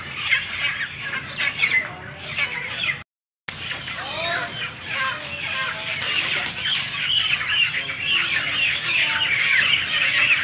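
Many chickens cluck and squawk continuously close by while being loaded onto trucks, a busy flock chorus with a brief silent gap early on.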